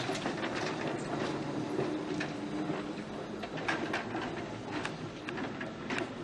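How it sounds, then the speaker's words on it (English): A small red tram passes along a street in Odense in 1951, a steady rattling, clattering rumble of wheels on rails heard at moderate distance, continuous and without voices. "along with a little red tram, here passing down St."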